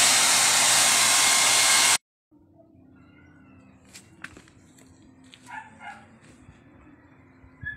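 A loud air blower drying a washed car rushes for about two seconds, then cuts off abruptly, leaving quiet room noise with faint scattered sounds.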